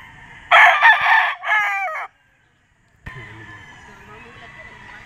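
A white kelso gamecock crows loud and close in one long call with a shorter follow-up, then a pause before other farm birds and murmuring voices continue faintly.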